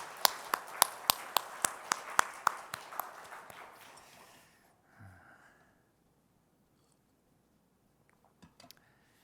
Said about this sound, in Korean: 우리 박수, 감사의 박수 한번 드릴까요?